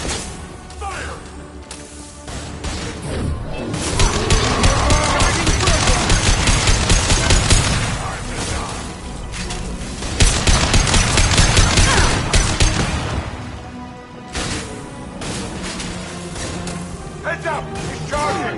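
Mass Effect 2 battle gunfire: dense bursts of rapid automatic shots and heavy fusillades, loud and close, with shouted voices over the shooting.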